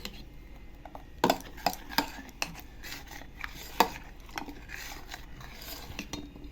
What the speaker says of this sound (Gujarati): આને સતત હલાવતા રહેવાનું છે. આ રીતે હલાવતા રહેવું.